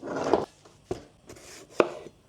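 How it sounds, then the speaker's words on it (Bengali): A knife chops colourful capsicum on a wooden board for a Cantonese prawn dish: three separate close, sharp cuts, each one short and crisp against a quiet kitchen background. "ক্যাপসিকামগুলো কাঠটা এরকমভাবে কেটে নেব সবগুলো"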